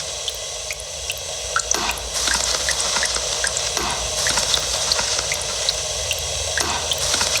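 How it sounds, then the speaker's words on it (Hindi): About 150 ml of water is poured into a beaker during a school chemistry practical, a continuous close splashing trickle with scattered drips and no talking. "अब हम इसमें पानी मिलाएंगे 150 ml"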